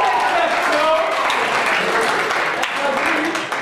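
An audience at a cultural student association show applauds, a dense, steady wash of clapping throughout with crowd voices mixed in.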